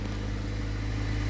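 A Jeep Compass engine with a P0420 catalytic converter code runs at a steady, close idle, a constant low rumble with no pauses or revving.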